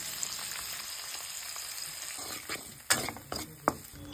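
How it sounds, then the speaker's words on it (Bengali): Shrimp fry in a kadai with salt, turmeric and black cumin, giving a steady close sizzle. Sharp metallic clinks and scrapes of stirring come in toward the end. "কড়াইতে কালো জিরে ফোড়ন দিয়ে তার মধ্যে চিংড়িগুলোকে নুন হলুদ দিয়ে ভালো করে ভেজে নিতে হবে"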